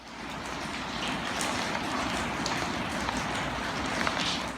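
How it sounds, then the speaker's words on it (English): Steady rain falls outdoors near a pond and a building site, a dense and even hiss with scattered drops striking surfaces close by. It continues without a break and without voices. "it's raining all the time"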